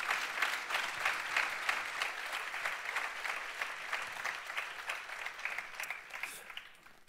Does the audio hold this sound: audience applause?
yes